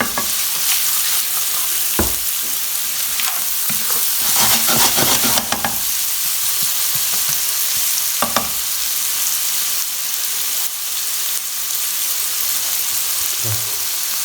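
Chopped onion sizzling steadily in a hot pan for a chickpea and potato curry, a constant loud frying hiss broken by occasional scrapes and stirs of a utensil, with no talking.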